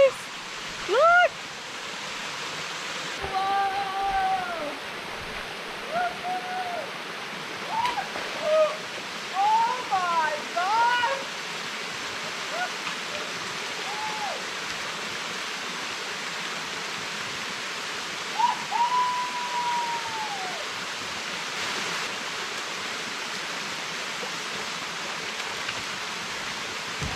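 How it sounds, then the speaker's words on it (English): Steady broadband rush of falling water fills the whole stretch, constant and loud, with people talking and exclaiming over it at intervals. "we found the waterfall"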